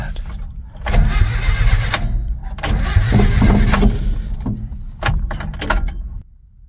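Car engine with suspected low compression cranking and catching, then running rough and uneven with surging bursts and dips, close by, ending as it dies down to quiet.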